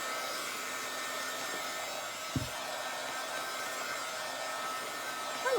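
A hair dryer blows steadily and loudly up close while drying paint on a wooden sign, its even whoosh broken only by one brief knock partway through.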